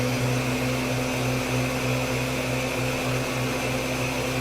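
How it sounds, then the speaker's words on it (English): A large blender runs at full power on an Anker SOLIX C1000 Gen 2 portable power station, with a steady, loud, continuous motor whir and grinding that holds level the whole time and has no talk over it. "Now I'm gonna do this blender real quick, the big blender."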